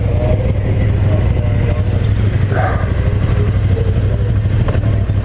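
A 2018 KTM 1290 Super Duke motorcycle engine runs loud and close, a steady throaty rumble that holds throughout without pause.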